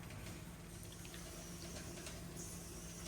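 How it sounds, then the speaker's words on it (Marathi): Wild leafy vegetables called korala, a monsoon greens from Alibaug, are rinsed in clean water, a steady close sloshing and trickling wash that runs without a break. "ही भाजी स्वच्छ पाण्यात मी 2 वेळा धुवून घेणार आहे"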